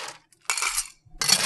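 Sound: ice dropped into a rocks glass

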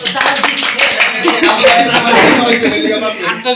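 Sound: people clapping for the winner

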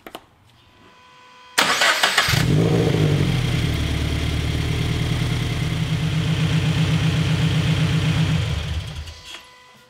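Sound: Toyota FR-S/86 car engine started and running

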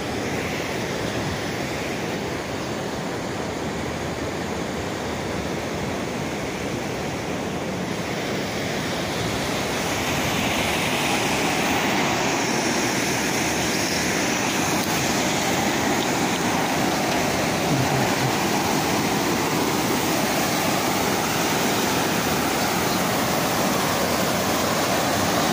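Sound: waterfall water falling

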